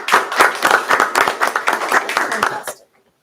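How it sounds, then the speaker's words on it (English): A round of applause from the audience at a school board of education meeting, brisk close clapping from a modest group that carries steadily for under three seconds and then stops abruptly into silence. "it's certainly a round of applause"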